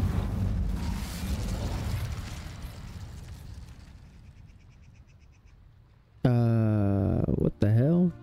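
In Hogwarts Legacy, the Incendio fire spell goes off with a loud burst and a roaring, crackling blaze. The flames fade over several seconds, then a voice breaks in near the end.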